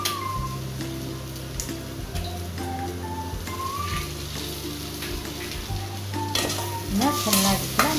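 Beaten eggs with mixed vegetables being stirred in a frying pan give a steady, soft sizzle, with repeated scrape-and-scuff strokes of the spatula running through it. No one speaks.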